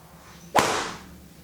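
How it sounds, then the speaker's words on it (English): A cane whips through the air with a rising swoosh and lands a single sharp, loud strike on a full arm, the impact ringing briefly before fading. "you can hear the swoosh of the cane through the air and the impact"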